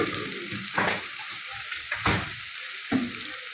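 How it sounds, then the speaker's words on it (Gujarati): Onion and garlic frying in a pan make a steady sizzle, with a few louder scraping stirs spaced through the clip and no talking. "સરસ આપણું ડુંગળી લસણ થોડુંક શેકાઈ ગયું છે."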